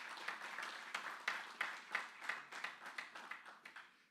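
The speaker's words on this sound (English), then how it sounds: "Give them a round of applause, please." Audience applause at a technology launch ceremony: a faint, steady patter of many hands clapping for about four seconds, sounding some distance away, with no talk over it.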